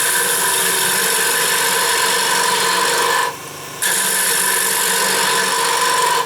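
Steady, loud, rasping hiss of a 5/8 gouge cutting wood on a lathe set up with a tailstock steady, broken by one brief half-second drop in the middle before the cut resumes.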